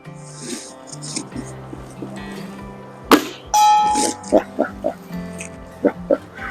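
Air rifle pellets from a Cometa Fenix 400 striking a metal bell target outdoors, several sharp metallic clangs and rings spaced through the clip, with background noise and voices at times.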